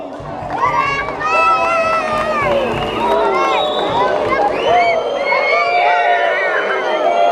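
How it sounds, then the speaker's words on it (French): Crowd at a rugby tournament awards ceremony in Saint-Sever cheering and applauding the Stade Montois team, a loud, continuous wash of voices, shouts and whistles with applause filling the whole stretch. "s'il vous plaît, on applaudit le Stade Montois"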